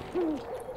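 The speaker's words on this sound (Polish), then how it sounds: "Słyszę w ogóle sowę" An owl hoots once, a single soft descending call from the Never Alone video game, faint and somewhat distant over a low ambient bed with no talking.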